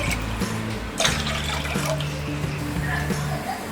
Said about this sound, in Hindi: पैन में हम 4 कप पानी डालेंगे